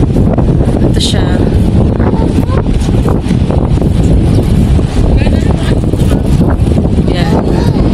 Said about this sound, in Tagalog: Yan ang hangin.